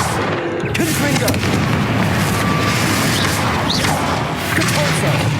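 Repeated fire-blast spell explosions from Hogwarts Legacy combat, dense booming bursts filling a continuous loud mix, with a voice casting spells over it.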